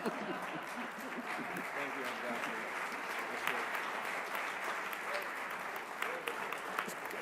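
Conference audience at an annual meeting's opening plenary applauding Ambassador Andrew Young, dense continuous clapping from a large crowd, with voices murmuring underneath.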